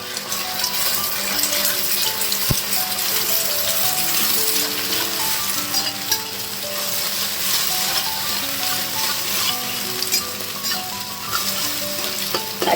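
Beaten, salted egg frying in hot oil gives a loud, continuous close-up sizzle and crackle that fills the whole stretch, with occasional utensil scrapes, over quiet background music and no talking.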